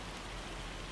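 Steady rain falling in a farming video game, a soft even wash of drops with no break across the short stretch.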